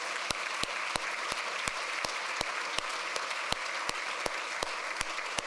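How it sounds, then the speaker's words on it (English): Applause from an audience at a policy event, a moderately loud, steady spread of clapping, with a few sharp, evenly spaced claps standing out above it. "So let's give them a round of applause."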